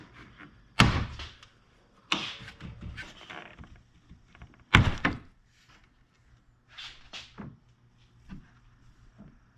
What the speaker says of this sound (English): And then we can get the grill off.